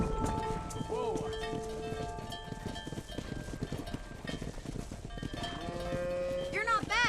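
Cattle herd being driven on a ranch in Red Dead Redemption, steady mooing and lowing calls with hoofbeats and trampling, dense and continuous, with voices talking over the herd.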